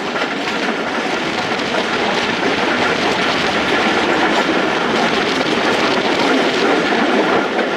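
Karachi Express rolling along the rails at speed, heard from on board as a loud, continuous rumble with steady clickety-clack of the wheels and no pauses.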